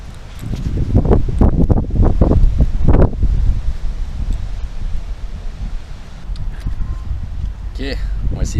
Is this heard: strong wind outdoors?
yes